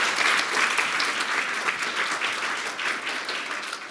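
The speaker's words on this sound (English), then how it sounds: "Round of applause." An audience at an academic conference session applauds steadily throughout, a dense wash of clapping at even strength from start to finish with no voices on top.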